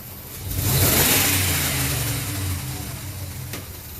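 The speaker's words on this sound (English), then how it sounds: "Snap it and hold it a little bit longer." 2003 Dodge Ram 1500 with a 4.7 engine and a cylinder 2 misfire, throttle snapped once: the engine swells from idle into a rev, holds briefly, then eases back down, close and loud, with no talking.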